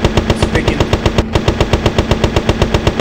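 Aircraft machine gun in Battleground Europe firing a long, loud, continuous burst of rapid evenly spaced shots over a steady engine drone, close up with no talk.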